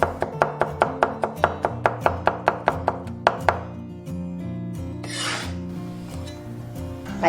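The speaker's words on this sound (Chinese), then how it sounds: "半根红椒先切条， 然后切小粒。" Half a red chili pepper being chopped into small pieces with a knife on a board: a fast, even run of sharp close taps for about three seconds, then it stops, leaving only quiet background music.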